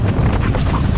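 Strong wind buffets the microphone while windsurfing at sea off the coast near Enoshima, a loud close rumbling gust that lasts only a moment.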